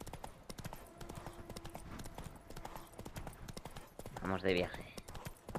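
Horse hooves clip-clop steadily in The Witcher 3, faint and rhythmic beneath someone speaking Spanish.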